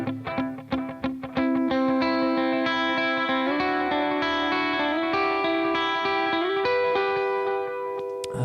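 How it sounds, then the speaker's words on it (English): An electric guitar plays through a Strymon Timeline digital delay pedal: a few picked notes, then sustained chords ringing out with repeating echoes and a slight modulated shimmer. "My main digital delay, the timeline."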